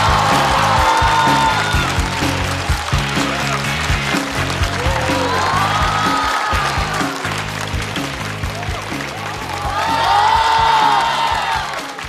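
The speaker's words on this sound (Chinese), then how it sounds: "掌声欢迎范志毅。" A studio audience at a Chinese roast comedy show greets footballer Fan Zhiyi with loud applause, whoops and cheering that swell, dip, then surge again.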